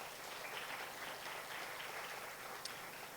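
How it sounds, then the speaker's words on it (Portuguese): Church congregation applauds during a service, a faint, steady wash of clapping from across the room with one brief sharper sound near the end. "Ok, vamos aplaudir esses irmãos aí,"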